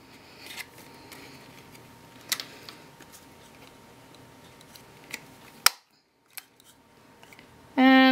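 A hand punch snaps holes in a folded paper triangle wedding favor box, several sharp isolated clicks spread over quiet handling rustle, and the clearest snap comes near the end.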